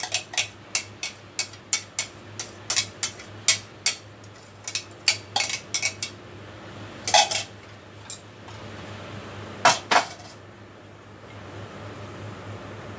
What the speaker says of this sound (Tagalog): Paghalo-haloin lahat sa isang lalagyan.